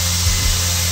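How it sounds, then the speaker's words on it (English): A power drill fitted with a Screw Mate counterbore bit bores through the wooden lip of a farmhouse table frame to mount the top, giving a short, steady motor whir with a low hum. "I'm using this screw mate bit that's got the counter bore and the shaft drill here."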